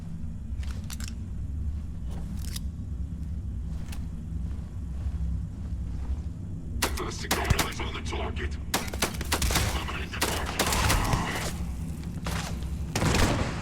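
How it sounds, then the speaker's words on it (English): Gunfire in the sci-fi video game Starfield: a low steady background hum, then from about seven seconds a dense run of sharp bursts and impacts with rapid repeated shots in the second half. "Opening fire."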